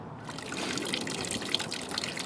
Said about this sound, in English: You just want clean distilled water coming out.